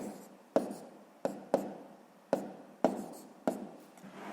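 A pen is writing out a multiplication on paper in a sixth-grade maths exercise, producing six sharp scratchy strokes at uneven intervals, each fading quickly. The sound is close and fairly quiet, with no talking.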